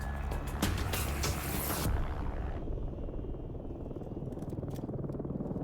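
A rescue helicopter's engine and rotor roar loudly and steadily near Everest's Camp 1. A rushing, hissing noise cuts out partway through, leaving the deep rotor drone.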